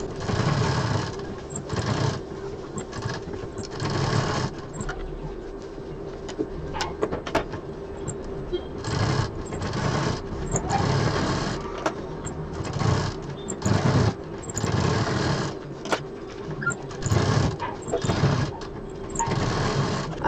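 A sewing machine stitches the corners of a round sling bag in short repeated bursts of rapid mechanical whirring, close and fairly loud, with brief pauses between runs.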